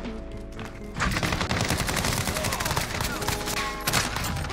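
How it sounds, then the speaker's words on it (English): MP7 submachine gun hip-fired in Modern Warfare, fitted with an anime-style tracer pack skin: dense rapid automatic bursts dominate, loud and close, running steadily after a quieter start. "The MP7 hip fire is awful."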